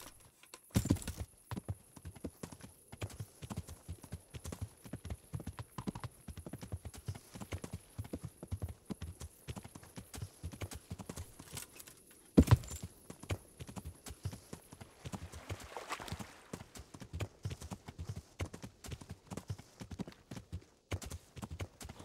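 Horse hooves clip-clop in a steady, brisk rhythm while riding in the medieval game Kingdom Come: Deliverance, fairly quiet and continuous, with a sharp louder knock partway through.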